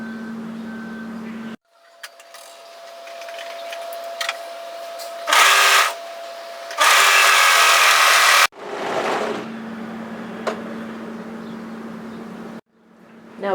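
An overlocker sews the edge of a fabric cuff in short bursts, a loud rapid buzzing in two main runs, separated by quiet pauses and soft handling noises of the fabric and machine.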